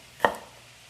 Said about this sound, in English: I just slice my onion